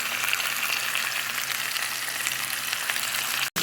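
Pork chops with garlic fry in a pan, giving a steady, close, moderately loud sizzle and crackle that runs throughout with no talking.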